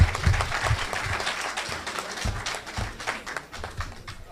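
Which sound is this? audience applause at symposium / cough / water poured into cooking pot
audience applause at symposium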